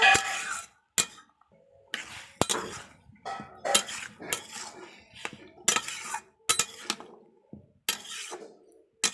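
Peanut chutney being stirred in a pan after turmeric powder and salt are added: close, intermittent metallic clinks and scrapes of a spoon against the cookware, in irregular bursts with short silences between them.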